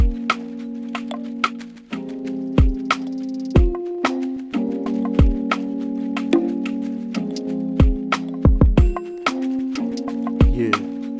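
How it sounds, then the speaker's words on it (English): Relaxed afropop groove with a steady drum beat, sustained melodic chords and light shaker and percussion hits looping throughout, no voices. "let's just see how it sounds like with the beats, the melody, and the percussions and shakers loop"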